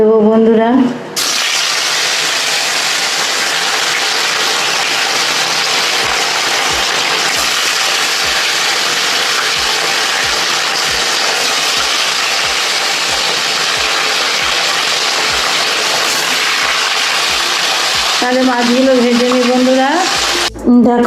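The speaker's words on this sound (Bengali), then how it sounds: "আমি এবার মাছগুলো ভেজে নিই" Fish pieces fry in hot oil in a wok, a loud continuous sizzle that runs close and steady for most of the stretch, with soft repeated stirring knocks underneath and voices at the start and end.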